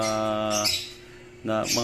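Young opaline pale fallow lovebirds, three months old, give harmonic squawking chirps close by, one long call followed by a pause and then another burst.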